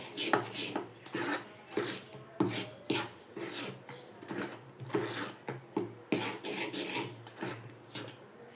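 Pongadala batter mixed with salt and cumin in a bowl: a rhythmic series of scraping, rubbing strokes, roughly two per second, each a short gritty swipe with brief pauses between, close and fairly quiet.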